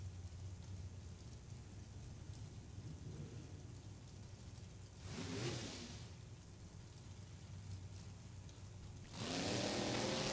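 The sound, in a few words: drag racing cars revving and launching down the strip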